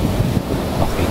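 Surf washes steadily onto a black volcanic-sand shore at Sabak beach, a continuous broadband roar of waves with wind buffeting the microphone throughout and no voices.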